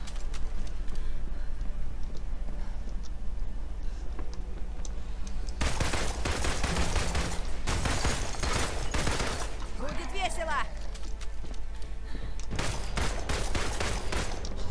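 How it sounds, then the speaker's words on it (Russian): Turret gunfire in the video game Marvel's Avengers rattles out in dense bursts after a quieter start, with rapid volleys and clattering impacts mixed with game effects. "Турели."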